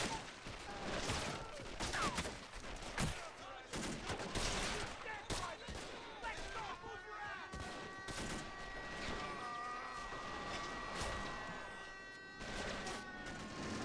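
Heavy battlefield gunfire in the Men of War video game during an amphibious Ranger assault on a Kriegsmarine naval base: dense, overlapping bursts and volleys throughout, with sharp loud cracks rising over a constant din of combat.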